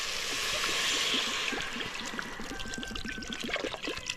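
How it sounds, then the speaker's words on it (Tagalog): Well water pours into a cooking pot during preparation of sinigang fish soup, a continuous splashing trickle that fills the short stretch without any talk. "So lagyan na natin ng tubig. Tubig galing sa balon."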